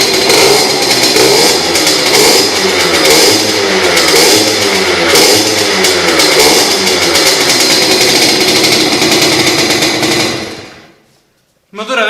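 A moped two-stroke engine running hard after a rebuilt reed valve block, manifold and flow guide, a loud, buzzing rattle held steady for about ten seconds before cutting out, with a brief noise at the very end.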